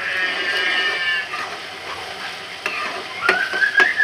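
Tomatoes with salt stirred in a hot frying pan, a continuous sizzle broken by a few sharp scrapes and clacks of the spoon toward the end, close and fairly loud.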